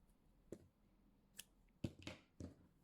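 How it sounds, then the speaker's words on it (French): Scissors snip crochet yarn for a bag in a few sharp, quiet clicks spread over a couple of seconds, close by in a hushed room. "Je coupe le fil."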